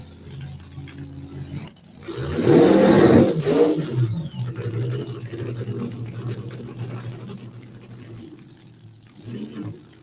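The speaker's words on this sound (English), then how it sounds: "looks like he is bringing it forward for a short burnout" A Street Fuel Coupe drag racing car on a dragstrip does a short burnout: an idling rumble swells into a loud roaring burst, then settles back to a lower running drone, loud and close with no talk.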